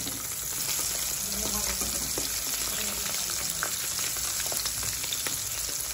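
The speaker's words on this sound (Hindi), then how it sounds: "इसके अंदर लपेट लिए हैं और एक एक करके इसको फ्राई कर देंगे।" Raw banana fritters frying in hot oil give a steady, close sizzle with scattered crackles and pops throughout, without any speech.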